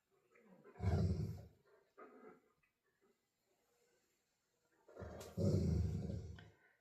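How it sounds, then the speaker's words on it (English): Dogs growl and vocalize nearby in two loud, rough bursts separated by a quieter stretch with a softer grumble between them. "My dogs are talking to you."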